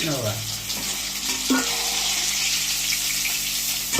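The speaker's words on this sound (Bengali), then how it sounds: "ওখানে ইলিশ মাছ রান্না করছে এখানে" Hilsa fish fries in a pan with a steady, close sizzle, broken by a few faint clinks in a home kitchen.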